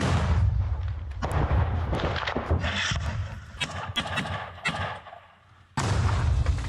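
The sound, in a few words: gunfire and artillery in Russia-Ukraine combat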